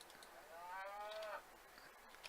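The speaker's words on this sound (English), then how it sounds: "Oh, wish that cow would shut up." A single drawn-out cow moo rises and fades over about a second, heard clearly but at moderate distance against a quiet background, with no voices.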